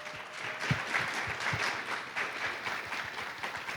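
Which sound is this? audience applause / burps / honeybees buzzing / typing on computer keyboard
audience applause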